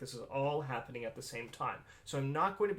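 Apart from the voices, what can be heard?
No everyday noise stands out behind the speech.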